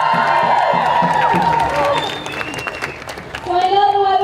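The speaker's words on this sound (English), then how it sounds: "Can we give him one more round of applause?" A crowd at an outdoor climate strike rally applauds and cheers loudly and continuously, with whoops rising over the clapping and voices carrying through.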